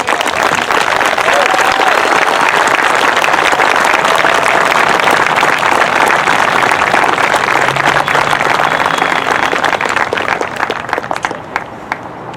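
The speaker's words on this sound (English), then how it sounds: "Let's give another round of applause to Kenya" Loud, dense applause from an audience at an outdoor justice rally, continuing strongly for about eleven seconds before thinning out at the end, with faint voices mixed in.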